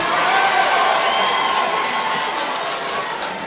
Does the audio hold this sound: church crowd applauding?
yes